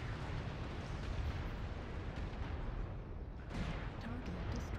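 A destroyed mech target in a video game blows up with a deep, rumbling explosion, a sustained low roar that stays dense and steady for several seconds with a brief dip before rising again.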